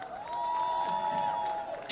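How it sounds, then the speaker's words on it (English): A crowd at a night walk event applauds and cheers, a sustained wash of clapping and whoops with a steady tone running through it, fairly faint. "Can we have a huge round of applause?"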